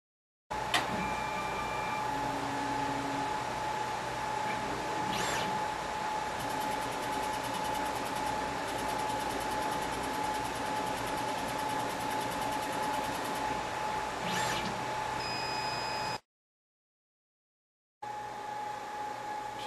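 A Gravograph LS100Ex fiber laser marker works on aluminum, giving a steady mechanical hum with a sustained tone and occasional brief clicks. It runs continuously for most of the clip, stops abruptly into silence, then resumes.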